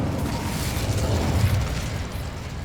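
Incendio fire spell in Hogwarts Legacy: a dense, roaring burst of flame with rumbling low crackle, loud and continuous for the full length, no voices over it.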